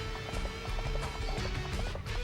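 A horse gallops in the video game Dynasty Warriors 3, with rapid, rhythmic hoofbeats that stay close and steady over a constant background hum.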